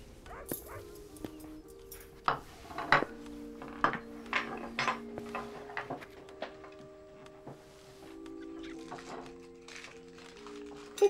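Cutlery and dishes clink and clatter in scattered bursts, mixed with a dog's whimpering and yips nearby.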